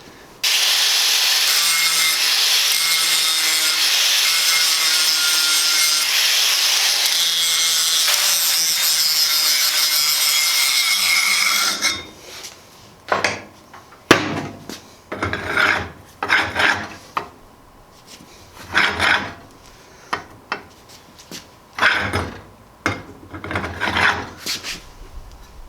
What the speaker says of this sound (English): it looks like I just need to grind off some of these